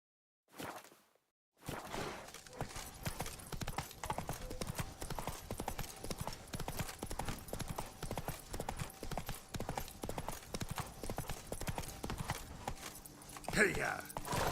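The horse Roach in the video game The Witcher 3 walks and gallops with steady, rhythmic clip-clop hoofbeats on the ground, close and continuous, with a brief whinny or shout near the end.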